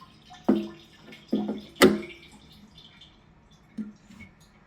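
Water drips and splashes into the tank of a DIY wire EDM machine as it fills and drains, several distinct close splashes spaced irregularly over a quiet background.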